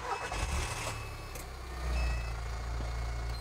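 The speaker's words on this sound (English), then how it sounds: "And these buttons start the car up." Adapted car fitted with push-button controls starting up, an engine cranking and catching into a low idle, with a faint repeating beep early on and no talking.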